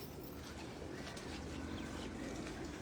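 Female pigeons in a darkened rooftop loft give soft, low cooing that merges into a constant hum beneath a hissy, noisy background, faint and unbroken throughout.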